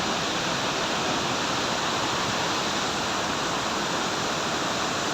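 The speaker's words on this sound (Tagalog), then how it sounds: "Sobrang lakas ang tubig, upusok siya." Water rushes hard through a dam during heavy rain, a loud, constant roaring wash with no break or change across the whole stretch.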